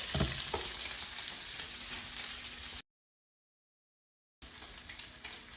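Kielbasa sausage frying in a frying pan, a soft steady sizzle heard close by, cutting out to silence for a moment before the same quiet crackle resumes.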